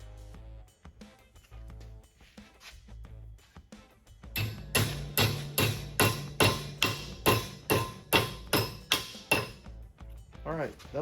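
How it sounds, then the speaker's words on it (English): Steel patch metal for rust repair on a 1928 Model A coupe being bent and hammered in a vise, about fifteen loud ringing hammer blows in an even rhythm after a few seconds of quieter handling. "Let's go ahead and get this metal bent up."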